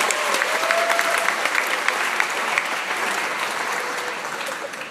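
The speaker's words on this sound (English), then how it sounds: "One more round of applause for Ms. Meredith O'Connor." An audience at an award ceremony applauds steadily for several seconds, a dense wash of clapping at moderate distance that slowly tapers toward the end.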